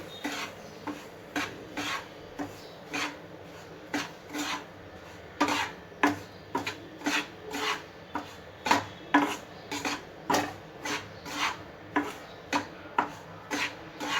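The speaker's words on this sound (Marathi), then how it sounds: "तूप गरम झाले, आता मी रवा टाकते याच्यात." Semolina roasting in hot ghee in a pan on medium heat, a spoon scraping and stirring in a steady rhythm of close, repeated strokes, about two per second, with no voices.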